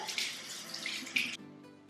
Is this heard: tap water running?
yes